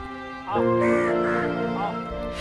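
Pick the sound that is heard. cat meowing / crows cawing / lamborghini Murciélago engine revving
crows cawing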